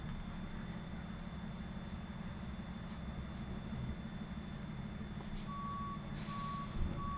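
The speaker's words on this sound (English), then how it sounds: "Oops, sorry for the street noises, if you can hear them" Faint street noise outside, with a truck's steady reversing beeps over a low traffic hum, distant and quiet throughout.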